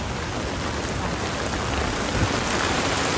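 Steady, dense rain pours down in a forest during a heavy storm, a continuous close hiss of drops on foliage and ground that swells slightly toward the end, with no voices.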